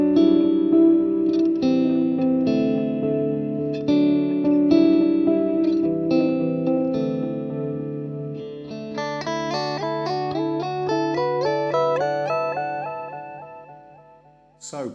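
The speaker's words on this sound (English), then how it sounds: "you get that lovely kind of bucket brigade, kind of desaturated kind of sound" Electric guitar through a Chase Bliss Tonal Recall analog bucket brigade delay: chords and picked notes are followed by soft, darkened, slightly fuzzy repeats that cascade and trail off, played alone at moderate loudness.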